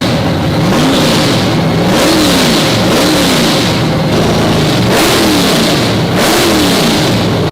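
A 9.8 liter supercharged big block V8 revs hard and close. Its loud, continuous roar rises and falls in pitch over and over.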